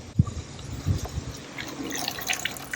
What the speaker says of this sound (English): But we're going to get these rinsed off and then start the jamming.